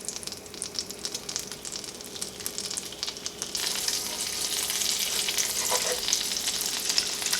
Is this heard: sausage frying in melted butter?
yes